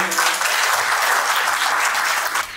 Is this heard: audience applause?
yes